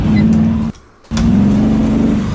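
A car engine on a race track drones loudly under light throttle, cuts abruptly for a split second, then resumes at a steady pitch, heard up close from inside the car.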